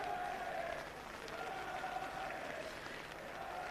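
A vocal crowd at a university rugby match in Llanrumney, Cardiff, applauds and cheers steadily, a distant sustained wash of clapping and voices throughout.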